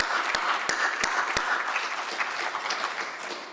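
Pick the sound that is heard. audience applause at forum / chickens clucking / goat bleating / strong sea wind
audience applause at forum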